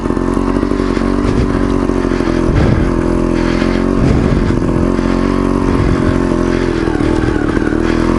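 A motorcycle climbing an uphill road, its engine droning loud and steady throughout with slight shifts in revs and some clatter, no voices.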